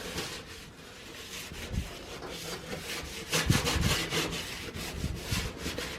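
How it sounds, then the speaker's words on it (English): A wet Scrub Daddy sponge is rubbed across household surfaces during a deep clean, giving a steady close scrubbing rasp with a few louder strokes in the second half and no speech. "So first I just take the wet scrub daddy and I kind of go over everything just to get it a little bit wet."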